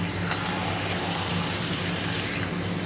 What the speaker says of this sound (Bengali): তো আমি এভাবে অনেকক্ষণ ধরে ফ্রাই করে নেব